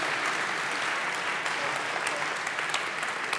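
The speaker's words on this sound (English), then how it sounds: "Keep the applause going for them." Dense applause from a hackathon award show audience, a steady wash of many hands clapping at full volume without pause, with faint voices mixed in.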